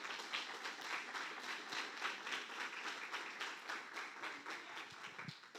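A church congregation applauds steadily, dense clapping filling the room for several seconds without pause.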